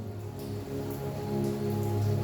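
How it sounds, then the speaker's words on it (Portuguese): Steady rain falls outside in a continuous wash of patter, at an even, moderate level with no talking. "Está chovendo lá fora, a natureza ela está clamando aí."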